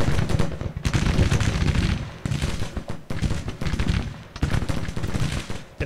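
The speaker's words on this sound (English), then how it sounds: "Gunfire down a little bit." Sustained, loud bursts of rapid gunfire in the strategy game Grand Tactician: Civil War, with brief gaps between volleys, dense and continuous like a firefight.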